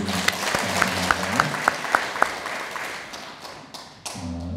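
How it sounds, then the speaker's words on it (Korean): A large church congregation claps steadily in sustained applause during a Sunday evening worship service, with a few sharper claps standing out, then the clapping gradually thins and fades. "하나님 앞에 다시 한번 영광의 박수 올려드립니다"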